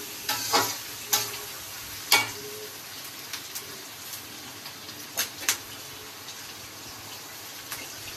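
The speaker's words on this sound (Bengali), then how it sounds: "এটা ভাজতে থাকুক ততক্ষণ" Ginger fries in a pan for chilli chicken, giving a soft, continuous sizzle dotted with sharp pops and clicks, a few louder bursts early on and sparser ones later, close by and without speech.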